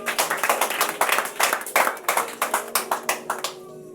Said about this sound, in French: Acclame pour les rois.